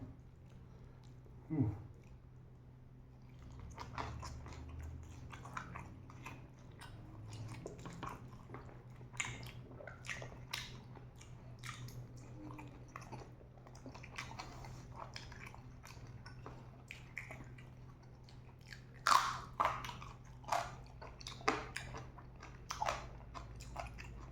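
Someone eats Isan koi khom with maak lin fa pods and assorted raw vegetables, making soft, close crunching bites and wet chewing that repeat irregularly, quiet throughout with a few louder crunches near the end.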